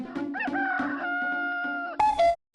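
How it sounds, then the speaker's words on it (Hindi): A rooster crows nearby in one clear, drawn-out call with a few clucks at the start and a sharp higher cry at the end before it falls silent. "मुर्गे को कॉक बोलते हैं।"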